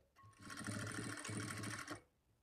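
A sewing machine stitches a lining blouse in one close, steady burst of about two seconds, its motor whirring with rapid needle clatter before stopping.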